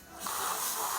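A foam injection gun fires a test shot for filling voids under concrete slabs, a steady loud pressurized hiss that starts after a brief quieter moment and holds without a break.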